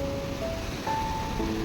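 Water rushes through the open gates of the DVC Durgapur Barrage in the evening, passing beneath the bridge. It makes a steady, dense roar of flowing water that fills the scene without a break.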